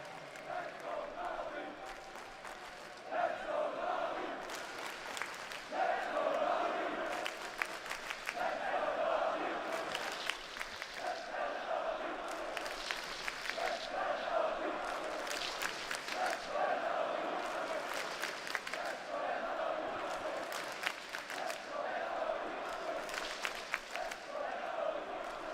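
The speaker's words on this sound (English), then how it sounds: "The cheer for NAVI" A large crowd at an esports grand final roars and cheers for NAVI in sustained waves, with rhythmic clapping and chanting bursts over a constant arena din.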